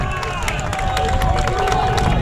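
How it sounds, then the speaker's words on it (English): Crowd at a high school baseball playoff game cheering from both sides of the field, a continuous roar of voices with scattered claps and shouts, fairly loud and sustained throughout. "Crowd making some noise on both sides."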